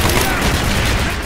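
Rapid automatic fire from an MP4 submachine gun in Call of Duty: Black Ops, a dense, continuous burst of shots loud and close, with overlapping gunfire and a busy battle mix throughout.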